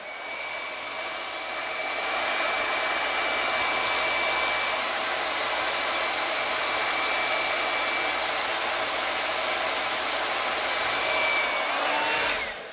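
A hair dryer blowing on a chalk transfer stencil, running as a loud, steady roaring whir for nearly the whole clip before switching off at the end, with no talking.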